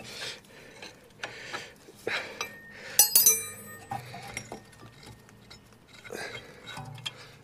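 A spanner works a bolt on the brake caliper of an Iveco Daily campervan, giving sparse metallic clinks and taps, with one sharper ringing clank midway, close and alone.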